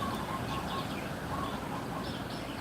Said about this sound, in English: You guys can hear the birds too.